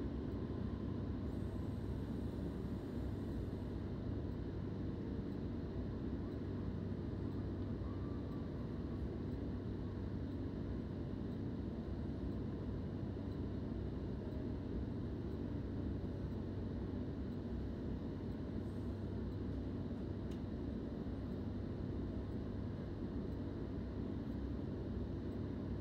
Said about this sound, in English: This train will stop at Doomside.